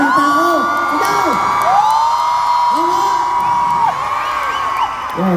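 A large concert crowd of fans shouts and cheers loudly, with high sustained whoops and screams swelling in overlapping waves throughout.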